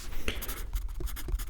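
Close, scratchy strokes of a pen on paper during an ASMR measuring session, arriving in short irregular bursts with brief pauses between marks and no talking.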